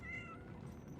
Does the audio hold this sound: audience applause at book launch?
no